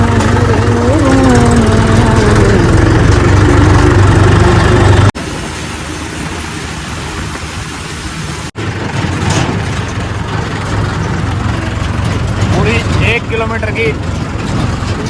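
A heavily loaded truck carrying bricks runs in first gear, its loud, rough engine drone continuous and close throughout, with a person talking over it and a couple of abrupt shifts in the noise.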